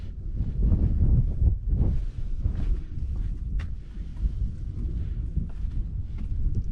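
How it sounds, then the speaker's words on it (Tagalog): Strong gusting wind outdoors on a Bermuda island, buffeting the microphone with a dense low roar that swells loudly at first and then continues steadily throughout, with no talking. "Lakas na hangin mga kababayan."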